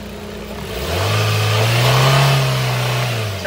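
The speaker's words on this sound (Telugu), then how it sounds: "సార్ కొంచెం యాక్సిలరేటర్ ఇవ్వరా?" A Maruti Suzuki Swift Dzire ZXi Plus petrol engine revs up from idle, climbing into a loud sustained rev that holds for about two seconds and then eases back, heard close with no speech.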